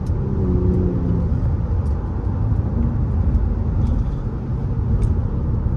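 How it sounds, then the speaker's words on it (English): Audi A6 being driven, heard from inside the cabin as a steady, loud, low road and engine rumble with constant tyre noise and no speech. "Little POV drive in the A6"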